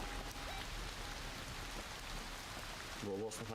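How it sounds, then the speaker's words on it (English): Steady rain patters in a Godot-made video game, a soft continuous hiss of falling drops at low level, with faint game sounds rising near the end. "Oh no, it's raining."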